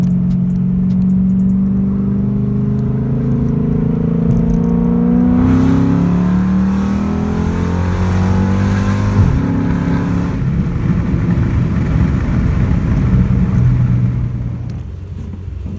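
The 6.1L engine of a Dodge Charger SRT8 with an open differential revs hard and loud from inside the car, its pitch climbing and dropping through several surges before easing off.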